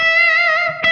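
Electric guitar plays a sustained, bending lead note from a rock solo, with a distorted, effects-heavy tone and reverb, ending in a short picked attack near the end; loud and alone.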